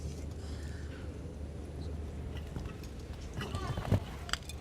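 Horse hooves pounding the ground during a show jumping round, a steady rapid clip-clop under continuous commentary, with a sharper thud near the end.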